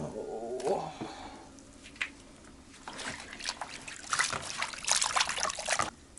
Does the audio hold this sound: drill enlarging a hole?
no